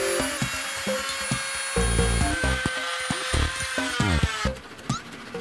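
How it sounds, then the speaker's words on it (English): A Dremel rotary tool grinds a gun barrel part for a combat robot, a high whining buzz broken by short bursts of contact and rubbing, with a sharper, louder pass near the end. "I grabbed my favorite Dremel tool bit and began making some changes"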